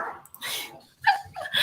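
Dogs shut outside a room bark and whine in short bursts, a couple of close yips and whimpers separated by brief pauses.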